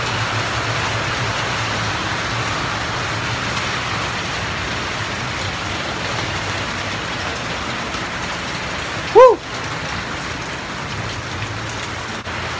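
Heavy rain pours in a steady, loud hiss of drops hitting surfaces, continuous and close, with a single brief tonal chirp partway through and no voices.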